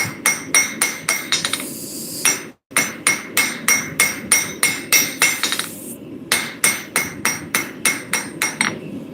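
Hot steel being hammered into a square taper at a blacksmith demonstration, ringing anvil strikes in steady rapid runs of close, loud blows with a brief pause between sets.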